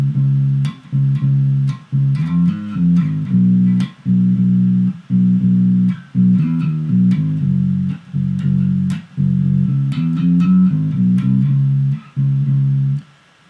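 Bass guitar playing a bass line, a steady run of clean, sustained low notes in repeating phrases with short gaps, loud and alone.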